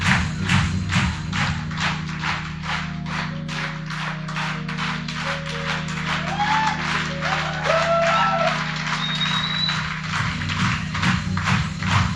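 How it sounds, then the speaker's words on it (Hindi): Audience clapping steadily over a loud low hum as leaders at the Diamond level and above walk on stage at a business team event, with applause continuing throughout. "ताली बजाओ, आपके डायमंड आ रहे हैं।"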